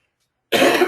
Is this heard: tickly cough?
yes